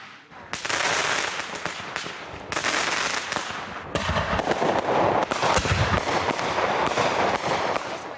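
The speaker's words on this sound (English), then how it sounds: "With the Independence Day fireworks in full swing" Independence Day fireworks burst in rapid, overlapping volleys of loud crackling bangs, filling the whole stretch with dense, continuous explosions.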